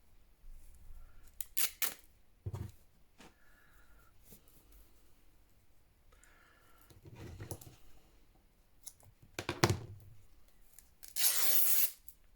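Paper torn by hand for a collage page, with a few short rips scattered through and a longer, louder tear near the end, close and otherwise quiet.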